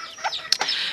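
A small Habanero bantam rooster makes a short, raspy clucking call with a sharp peak in the middle, heard close up and alone for under a second.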